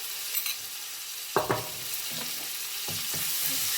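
Garlic and ginger paste sizzling in hot chilli oil, a steady frying hiss broken by several stirring scrapes and clatters in quick irregular bursts, close and alone.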